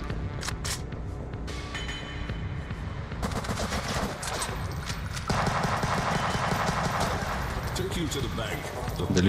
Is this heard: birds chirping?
no